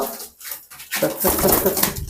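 Pigeons coo and scuffle at close range in a brief, lively burst of fluttering and soft cooing, with a voice speaking over them.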